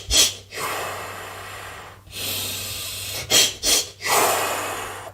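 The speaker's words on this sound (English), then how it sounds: "We do a fast patterned breath." Fast patterned Lamaze breathing for labour contractions: several quick, loud, close breaths in bursts, each sharp hissing inhale or exhale separated by brief pauses, with a steady low hum underneath and no talking.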